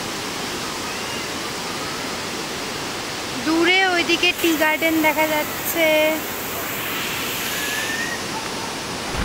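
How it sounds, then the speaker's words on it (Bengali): Steady broadband roar of the second falls of the Seven Sisters waterfall at Cherrapunji, a continuous wash of rushing water heard from a distance, with a person talking over it partway through. "এটা হচ্ছে সেকেন্ড ফলসটা। আওয়াজটা কি সুন্দর লাগছে না।"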